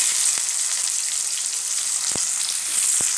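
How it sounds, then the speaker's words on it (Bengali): Chopped onions fry in oil spiced with whole garam masala for a light, low-oil mutton curry, producing a loud, continuous close sizzle with a few soft knocks of stirring. "প্যাঁচটাকে পুরোটা দিয়ে একটু ভেজে নেব।"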